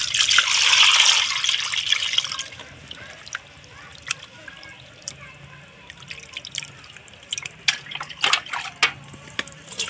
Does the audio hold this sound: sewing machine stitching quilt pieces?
no